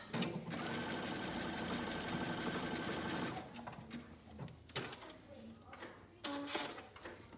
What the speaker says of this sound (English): I'm going to start by overlapping the elastic and sewing it into a circle with a zigzag stitch.